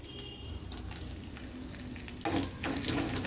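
Cumin, mustard seeds and green chillies hit hot oil for a drumstick sambar, giving a faint steady sizzle that jumps to a louder crackling burst partway through.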